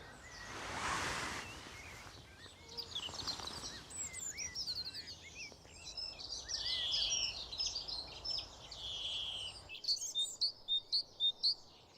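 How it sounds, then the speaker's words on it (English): Several birds sing in a garden with overlapping chirps and trills, moderately distant and fairly soft over a gentle background wash. A run of quick repeated notes closes the passage. "Just sitting and being surrounded by this rich music of birdsong never fails to delight."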